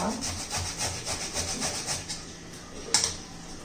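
Cucumber being grated on a kitchen grater, a rhythmic rasping scrape in repeated strokes, close and moderately quiet, with a sharper clatter near the end.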